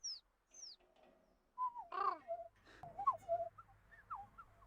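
Two men whistle and coo in imitation of different bird calls, a run of short rising and falling notes with hooting tones, close and fairly quiet, with brief pauses between calls.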